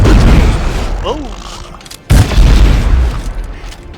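Weapon fire in Dead Space 3, a loud booming blast around the middle that cuts in suddenly and rumbles on, with a short rising whine and a softer thump earlier and a voice talking over it.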